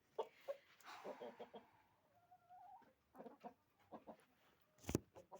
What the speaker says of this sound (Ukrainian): Там трохи курей, там кури.